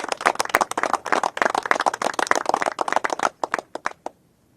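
Audience at a press conference of governors in Texas applauding National Guard and law enforcement, dense close clapping that thins to a few scattered claps before stopping.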